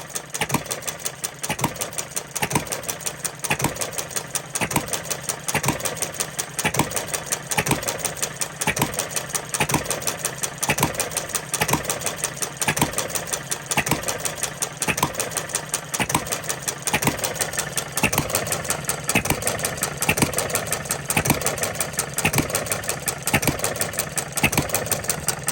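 A Coles engine runs steadily, its rhythmic pulsing chug repeating evenly and loud at close range, with no talking.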